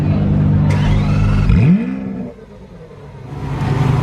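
A Lamborghini parked on the Place du Casino in Monaco fires up with a sharp rising rev, then settles into a steady idle rumble, loud and close.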